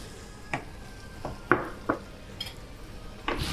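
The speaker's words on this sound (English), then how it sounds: "So we're stirring" Shepherd's pie mince being stirred and broken up in a pan, a low sizzle under irregular scraping and knocking of the utensil against the pan, close up, with no speech.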